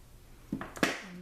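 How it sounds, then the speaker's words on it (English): A pair of scissors snips the leftover ribbon tails off a tied bow, two quick close cuts in an otherwise quiet room. "When you've got a bow that you like, you can cut off the excess."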